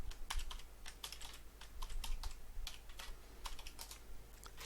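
Administrator password typed on a computer keyboard, a quick irregular run of soft, close key clicks over a faint steady hum, with no voices.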